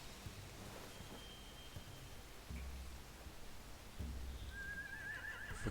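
Horses neigh in The Walking Dead video game, a whinny rising briefly in the middle distance and another clearer, wavering neigh near the end, set against steady rain and low rumbling ambience.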